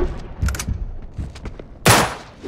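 Gunfire in the video game Uncharted 3: scattered sharp shots and short bursts. A louder blast near the end, with a voice muttering faintly between shots.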